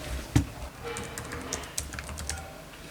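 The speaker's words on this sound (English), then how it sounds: "Now the keyboard is working perfect." Sparse, uneven laptop keyboard key presses, a few sharp clicks and taps scattered across a quiet background, close to the microphone.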